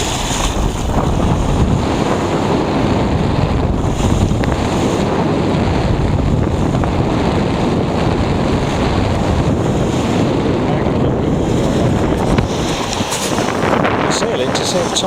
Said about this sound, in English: So that's Picaroon almost under full sail.